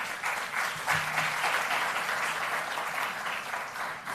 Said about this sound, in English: Another round of applause, please, to Dr. Mothibi.